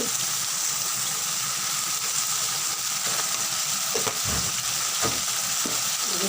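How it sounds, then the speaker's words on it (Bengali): Food sautéing in a pan after salt and sugar go in, giving a steady loud sizzle throughout with a few low knocks of stirring. "কষে নেবো যতক্ষণ না পুরো কষে যায়"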